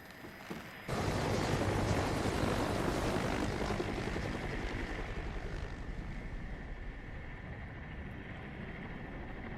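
A helicopter from the animated film Final Fantasy VII: Advent Children whirs in after a brief quieter lead-in, then holds a loud, dense, steady rotor and engine roar that eases slightly over several seconds, with no voices over it.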